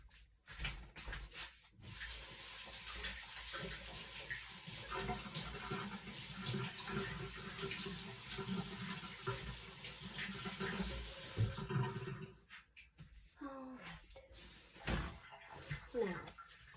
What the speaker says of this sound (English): going to rinse my hands off.